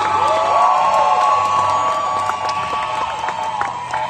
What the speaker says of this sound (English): Let me give Riwei a big round of applause.